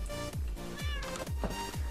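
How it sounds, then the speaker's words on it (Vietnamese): Cats meow repeatedly in a Minecraft survival world, several short, falling, close meows in quick succession, fairly faint. "Nó ngủ mà nó gáy mà nó còn kêu meo đó."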